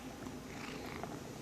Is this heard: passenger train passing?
no